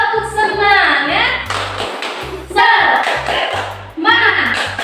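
A school class does the tepuk semangat clapping chant: firm, rhythmic patterned hand claps from a group, close and loud, with voices chanting along between the claps.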